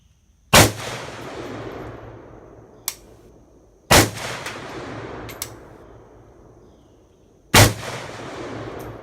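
Three loud semi-automatic rifle shots at a shooting range, each a sharp close crack with a long decaying echo, spaced a few seconds apart, with a faint metallic ping between them.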